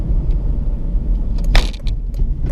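Road traffic flows steadily past, a continuous low rumble of several cars with one closer vehicle swelling by in a brief hiss midway, heard from inside a parked or moving Honda.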